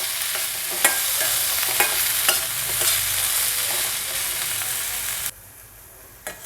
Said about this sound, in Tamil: இதையும் ஒரு 2-3 நிமிஷம் போல் வதக்கி எடுத்துக்கலாம்.